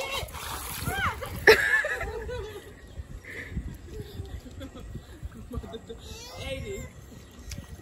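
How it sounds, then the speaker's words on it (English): A young boy tosses water onto himself, making one quick splash that stands out briefly amid ongoing chatter and nearby voices, with softer water movement afterward. "throwing the water on himself"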